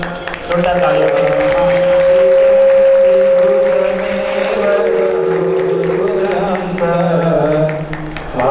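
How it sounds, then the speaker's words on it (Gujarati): Loud, sustained applause from a crowd fills a lamp-lighting ceremony at a large gathering, continuing throughout alongside a steady tonal musical drone and voices. "જોરદાર તાળીઓ."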